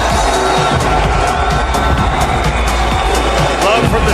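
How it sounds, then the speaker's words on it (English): A large Saudi arena crowd roars and cheers steadily and loudly throughout for a heavyweight fighter at a boxing event, with a commentator's voice running over the noise. "Love from the Saudi crowd for Francis Ngannou."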